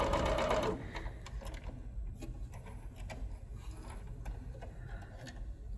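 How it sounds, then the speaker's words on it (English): A sewing machine stitches a strap for an apron made from an Oxford shirt, a loud close burst of running stitches that stops early, followed by quiet handling and light rustling. "keep sewing, just keep sewing, just keep sewing. All the way to the end."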